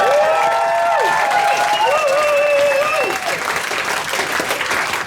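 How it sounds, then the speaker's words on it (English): Wedding guests at the speeches give the bride's family a loud, sustained round of applause, a dense crowd clatter lasting throughout and easing slightly near the end, with a few voices and cheers mixed in. "So a big clap for them."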